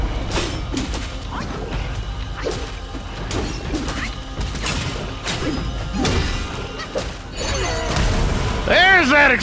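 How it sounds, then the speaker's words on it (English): In the video game Black Myth: Wukong, an explosion sets off a sustained stretch of loud crashing and thudding impacts that keeps going for several seconds, with a whooshing, wavering effect near the end. "explosion."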